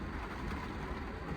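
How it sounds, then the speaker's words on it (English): Rain beginning to fall at a camp as a thunderstorm passes through, a steady, dense hiss of drops that is fairly loud and constant over a short moment, with no voices. "Well, here comes the rain."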